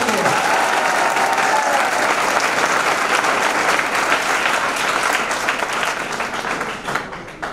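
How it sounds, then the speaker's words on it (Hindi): A large audience at a promotion ceremony in Begusarai bursts into loud, sustained applause that keeps going throughout and thins out slightly near the end, with a few voices mixed into the clapping. "इनके नाम पर एक जोरदार ताली आप लोग बजाएंगे"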